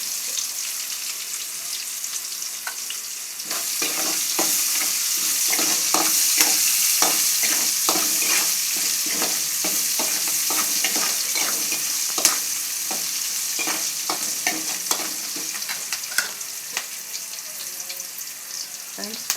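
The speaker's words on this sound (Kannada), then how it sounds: "ಸ್ವಲ್ಪ ಈರುಳ್ಳಿ ಕಂದು ಬಣ್ಣ ಬರೋ ಹಾಗೆ ಸ್ವಲ್ಪ ಫ್ರೈ ಮಾಡ್ಕೊಳ್ಳಿ ಫ್ರೆಂಡ್ಸ್" Onions fry in a pan for a Hubli-style brinjal dish, a loud, continuous close sizzle with frequent rhythmic scraping strokes of a spatula throughout.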